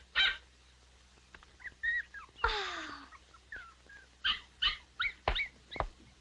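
Dogs, one a big white dog, whimper and whine close by in a string of short, high, wavering cries and yelps with brief pauses between them, and no one speaks.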